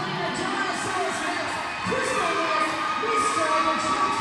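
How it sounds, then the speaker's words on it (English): Crowd at a roller derby tournament cheering for the United Brisbane team as they skate their lap, a sustained roar of shouts and whoops filling the space, loud and continuous. "They're getting big cheers from the crowd"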